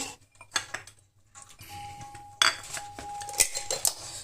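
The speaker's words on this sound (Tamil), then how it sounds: "அதுதான் லைட்டாக இப்படி அடித்து வச்சுட்டிங்கன்னா மாவை இப்படி அடித்து" Batter for Spanish chocolate pancakes is beaten in a bowl, giving scattered light clinks and scrapes of a utensil against the dish, close by and fairly quiet, with no voices.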